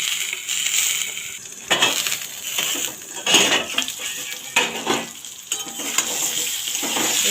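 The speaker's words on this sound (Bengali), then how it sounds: "এখন এটাকে আমি লাল করে ভেজে নেব।" Eggplant frying in oil in a pan is pressed down and stirred. Close, continuous sizzling is broken by repeated scraping and clattering bursts from the spatula against the pan.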